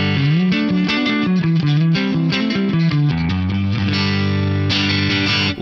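An electric guitar runs through an Axe-Fx III preset with a compressor, a stock-settings Band Commander amp model, a cabinet and reverb. It plays distorted, sustained chords and melodic runs, close and loud with no talking.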